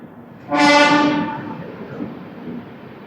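A train arriving at Gooty station sounds one long, loud horn blast that fades into the low rumble of the approaching train.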